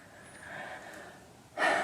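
A slow, soft inhale drawn in quietly, followed by a louder, breathy exhale close by.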